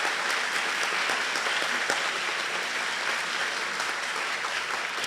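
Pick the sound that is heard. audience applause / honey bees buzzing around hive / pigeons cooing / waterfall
audience applause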